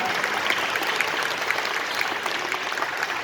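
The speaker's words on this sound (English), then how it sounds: "round of applause for that" A large audience at a book fair talk applauds steadily and loudly, a dense wash of clapping that holds evenly throughout without a break.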